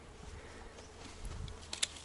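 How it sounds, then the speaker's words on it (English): Bees and hoverflies buzzing softly around a flowering plant nearby, a faint steady drone with a few louder passes close by. "Covered in bees and hoverflies"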